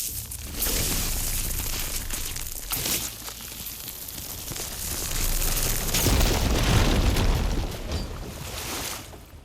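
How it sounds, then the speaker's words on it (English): Explosion in Horizon Forbidden West after a device is ignited: a broad rumbling blast that swells and lingers as a dense roar for several seconds, with no talk over it. "Cool people don't look at explosions."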